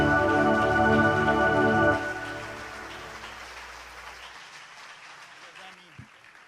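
Applause from a church congregation, a hiss of clapping under sustained music that fades after the music drops away, with a brief voice near the end.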